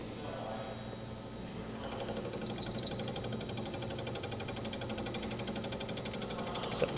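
A Serdi valve seat machine's spindle turns at around 700 RPM while cutting a valve seat, giving a fast, continuous mechanical chatter with a faint metallic ringing on top. The sound is steady and moderately quiet, with no talk over it.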